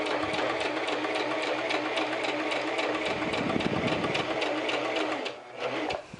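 A sewing machine runs steadily while stitching a sleeve a quarter inch from the fabric edge, its motor humming in a continuous close whir that eases briefly near the end.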